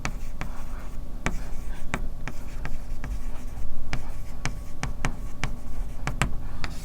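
Writing on a board during a physics lesson comes through as sharp, irregular taps and strokes, fairly close and steady across several seconds, over a constant background hum.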